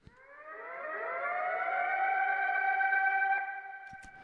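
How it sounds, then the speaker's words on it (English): A reversed siren sample from the Denzel Curry Cave session used in a beat swells up slowly in layered, echoing tones, holds loud for a few seconds, then cuts off with a short click at the end. "The last thing that I did was get a Denzel Curry Cave Siren"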